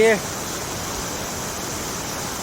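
Li Phi waterfall on Don Khon in southern Laos, rushing as a steady broadband roar, even and unbroken throughout, after a brief voice at the very start.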